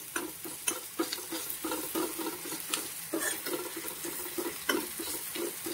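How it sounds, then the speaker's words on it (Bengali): Onions frying in a pan with a soft, continuous sizzle, broken by repeated light scraping stirs and clinks at an uneven rhythm; fairly quiet and close. "পেঁয়াজগুলো ভেজে নিচ্ছি"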